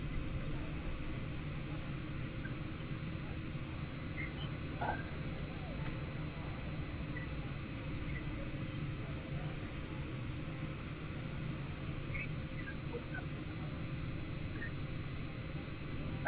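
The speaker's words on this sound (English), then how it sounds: "this is Boeing Air India 787 Dreamliner." Steady low engine drone from an Air India Boeing 787 Dreamliner in Microsoft Flight Simulator, a constant, fairly quiet rumble that continues unchanged for the whole stretch.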